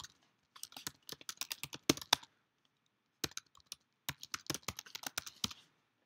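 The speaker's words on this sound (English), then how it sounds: "now I'm going to type in my credentials." Login credentials typed on a computer keyboard: two bursts of rapid, close key clicks split by a short pause, then a few isolated taps and a final quick flurry, with no voice.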